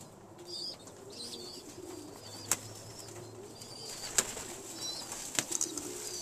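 Young pigeons coo softly nearby, low murmuring calls with a few sharp clicks and flutters scattered through.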